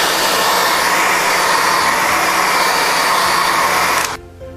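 A hair dryer blows steadily on painted rolled-newspaper tubes resting in a tray, a loud, continuous whirring rush that cuts off abruptly near the end.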